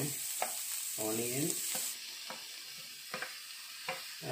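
Grated carrot and onion frying in butter with a steady sizzle, broken by several sharp utensil scrapes and stirring clatters.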